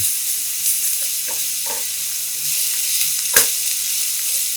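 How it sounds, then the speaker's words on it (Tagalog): Onion and garlic sauté in a hot pan, giving a loud, steady close-up sizzle with occasional stirring taps and one sharper clatter near the end, and no voices. "Mag-gisa tayo ng sibuyas. Sunod naman yung bawang."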